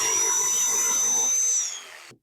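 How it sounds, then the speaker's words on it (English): A scroll saw cutting through wood for a strawberry planter, a steady close mechanical whine with a bright high tone that runs alone for most of the moment, then winds down and fades near the end. "So I'm going to go to the scroll saw."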